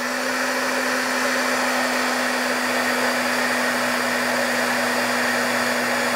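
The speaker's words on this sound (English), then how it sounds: "Now you're going to use your heat gun to melt the embossing powder and set it." A heat gun blows a constant, loud whirring hiss with a steady hum, running without pause while it melts embossing powder on paper.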